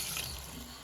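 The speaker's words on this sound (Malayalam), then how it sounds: "കുറച്ച് വെള്ളം ഒഴിച്ചു കൊടുക്കാം" A brief rush of water poured into a pan of fried masala for a mackerel curry, a quick close splashing gush under a second long.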